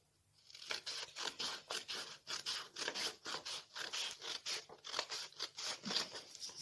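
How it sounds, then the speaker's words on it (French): Paper is cut with scissors along a ruled line while making an origami butterfly. Steady, rhythmic snips repeat about twice per second, close and fairly quiet, with no talking. "Utilisez ensuite votre paire de ciseaux pour venir découper sur le trait."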